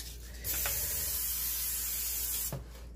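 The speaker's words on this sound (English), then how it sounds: "Let me grab my spray again." A single sustained hiss from a cooking oil spray can sprays for about two seconds, close by, followed by a faint click.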